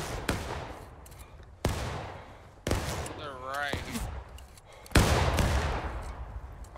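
Musket volleys crack out in War of Rights during a 100-player fort defence battle at Harpers Ferry's Bolivar Heights: sharp, loud shots at intervals with a roll of distant gunfire between them, while a voice talks over the fighting.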